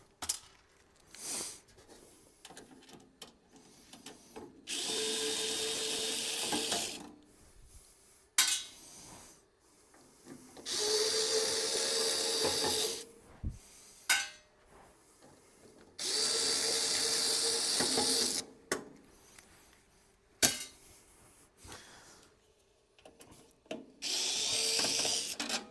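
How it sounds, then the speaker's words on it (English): Power drill running in repeated bursts of a few seconds each as it backs M4 screws out of a panel on a Skywalker V1, with clicks and handling clatter of the screws between runs. "I'm going to pull this panel off, remove all these screws."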